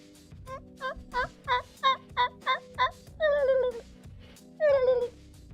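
A rapid series of turkey gobbles, eight short pulsing calls in a steady rhythm followed by two longer, drawn-out warbling gobbles, loud and close with little background noise.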